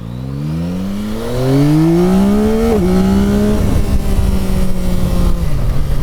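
A 2024 Yamaha XSR900 GP motorcycle engine revs up loudly, its pitch climbing steadily, then holds a high, strained roar with a brief dip partway through.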